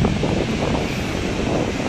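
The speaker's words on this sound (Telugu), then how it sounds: "మస్తు ఉన్నది వాటర్ ఫాల్ అయితే. సౌండ్ కూడా మస్తు వినిపిస్తుంది" Ethipothala waterfall in Andhra Pradesh, near Nagarjuna Sagar, gives off a steady, dense roar of falling water, continuous and unbroken throughout with a wind-like rush.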